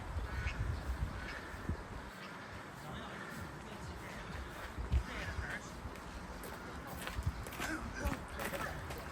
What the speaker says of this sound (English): You can hear them quacking.